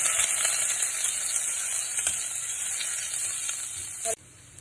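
Onion, ginger and garlic sauté in a pan for a North Indian chicken curry, a loud bright hiss of frying with faint stirring scrapes, dropping suddenly to a quieter sizzle near the end.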